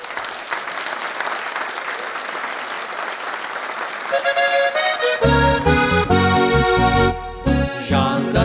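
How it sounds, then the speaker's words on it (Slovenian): Audience at a folk music show in Lovrenc na Dravskem polju gives loud, dense applause, and partway through a polka band bursts in and plays over the fading clapping. "dajte jim en velik aplavz."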